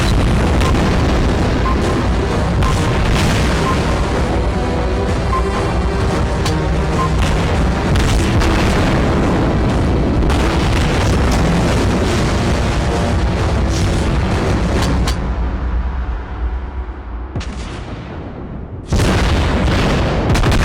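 Torpedo explosions in the naval battle game World of Warships Blitz produce repeated loud, deep booms and rumbling blasts, closely spaced and continuous before a brief lull and a final burst.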